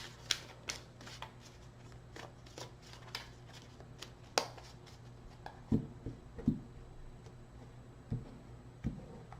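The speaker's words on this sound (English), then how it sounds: "Two more shuffles." Tarot cards are shuffled by hand close up, with soft riffling and repeated light taps and snaps at an uneven pace in a quiet room.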